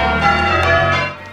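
Church bells cast in 1880 ringing at St John's Church in Bollington, a steady wash of overlapping tolls and hum that stays loud and sustained, then fades slightly near the end.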